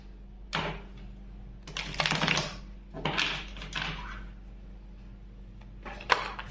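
Tarot cards are shuffled close by in several short, crisp riffling bursts, with quiet gaps between them and a low steady hum underneath.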